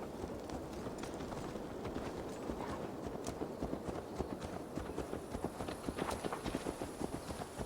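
Steady hoofbeats clip-clopping throughout, a horse trotting at an even pace close by in the video game Assassin's Creed Valhalla, with faint background ambience.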